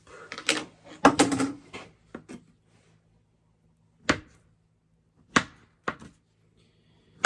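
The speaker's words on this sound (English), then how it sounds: "Just slice the bananas into thin slices" A knife slicing bananas, making a cluster of quick knocks and taps against a board followed by a few separate sharp cuts spaced apart, close and fairly crisp.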